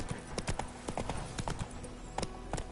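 Horse hooves clip-clop at a steady walking rhythm in The Witcher 3: Wild Hunt, a string of crisp, fairly close hoof strikes with faint game ambience behind and no talk over them.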